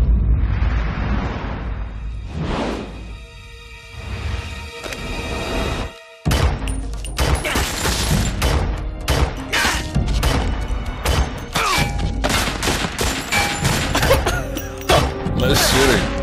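Gunfire and explosions in the video game Metal Gear Solid 3: Snake Eater, a dense, loud run of sharp shots and heavy booming blasts with a brief cutout partway through.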